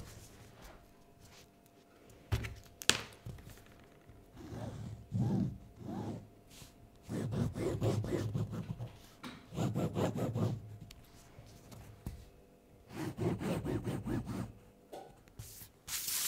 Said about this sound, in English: and we're going to accurately cut these out.